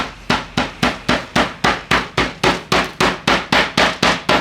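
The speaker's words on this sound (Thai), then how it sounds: "พอเนื้อ เย็นตัวลงแล้ว ใช้ค้อนทุบนะครับ" Loud, steady hammer blows, about sixteen evenly spaced thuds pounding cooked beef on something solid, close up with no talking.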